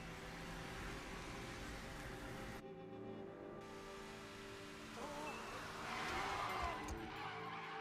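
A Lancer Evo drifting at full speed in an Initial D anime race, a dense engine and tyre roar that cuts out briefly and then returns, with a rising squealing screech toward the end.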